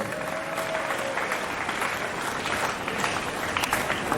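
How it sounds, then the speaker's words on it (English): A school farewell audience applauds to welcome the school band, with sustained, even clapping from a sizable crowd and a faint murmur beneath. "Let's put our hands together and welcome them with a round of applause."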